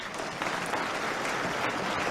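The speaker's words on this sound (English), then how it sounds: "Let's give her a round of applause to thank her." An audience at the opening ceremony of the 2023 World News Media Congress in Taipei gives a speaker a round of applause, a steady, even wash of clapping throughout.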